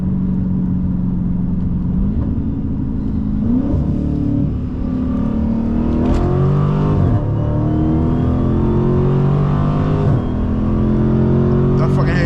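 A Dodge Challenger SRT 392 Scat Pack pulling hard from 40 to 100 mph, its loud engine roar climbing in pitch through several gear shifts, heard from inside the car with people talking over it.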